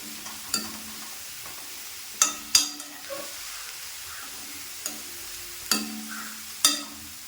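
Cabbage being stirred in a pan for a sadya dish: a soft steady sizzle runs beneath sharp, widely spaced scraping knocks of a spoon against the pan, close and fairly quiet, with no voices.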